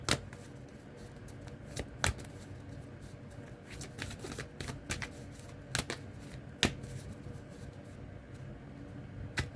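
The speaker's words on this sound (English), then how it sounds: "All right, get a good shuffle here." Cards being shuffled close up, crisp riffling bursts and snaps repeating irregularly over a quiet room.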